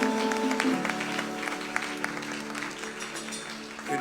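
A church congregation claps loudly and continuously in a large worship hall, a dense, sustained wash of applause with scattered voices and a held musical tone underneath, fading slightly toward the end.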